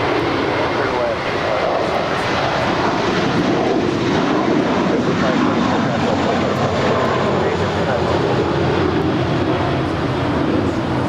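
An airliner on final visual approach to runway 25 left at LAX makes a steady, loud broadband engine roar that holds evenly throughout, with no breaks.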